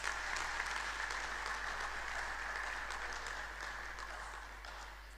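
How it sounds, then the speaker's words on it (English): Sustained audience applause after a university convocation lecture, a dense steady clapping that holds loud for several seconds before easing slightly toward the end. "Please let's give him another round of applause."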